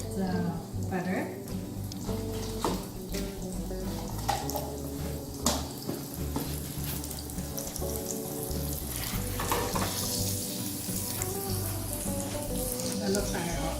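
Shrimp sizzling in a pan with canola oil and butter, a continuous frying hiss with stirring scrapes and small crackles that runs under people talking.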